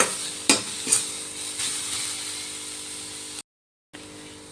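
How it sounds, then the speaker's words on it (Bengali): Grated carrots for a sweet carrot pudding fry in a pan with a soft, steady sizzle, punctuated by a few sharp clinks of a stirring utensil, close up, with a brief moment of silence near the end. "ভালো করে ভাজা ভাজা করে নেব এভাবে"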